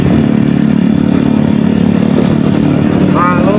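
A motorcycle used for ojek taxi work labours up a steep hill trail, its engine droning loud and steady under strain throughout, with a faint voice briefly near the end.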